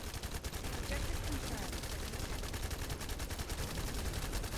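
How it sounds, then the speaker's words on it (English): Rapid automatic gunfire from the shooter game The First Descendant during a Death Stalker boss fight crackles in a dense, continuous stream at moderate volume, mixed with in-game effects. "blast this guy with as much gunfire as possible"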